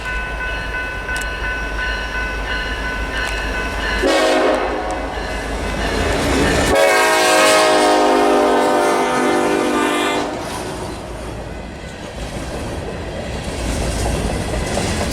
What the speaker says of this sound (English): it was right as the grain train was coming up on me